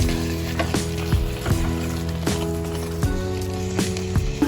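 A coconut and jaggery mixture for laddu simmers slowly in a pan, giving soft bubbling and light crackles over a steady tonal hum, with no talking.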